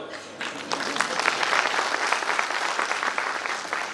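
Audience applause at a direct-selling company speech event rises after a short quiet opening and then holds as dense, steady clapping from a crowd for the rest of the moment.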